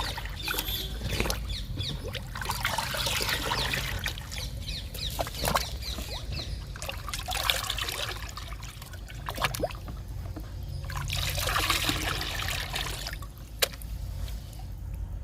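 Liquid plant fertilizer made from groundnut cake and kitchen waste is mixed and poured outdoors, with soft sloshing, trickling and scattered knocks over a constant low background, and distant bird clucks.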